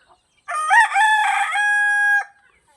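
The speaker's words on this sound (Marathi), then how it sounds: "बघा कोंबडा बघा कसा आहे बघा कोंबडा" A single desi village rooster crow, loud and close, rising then holding a long drawn-out final note before cutting off.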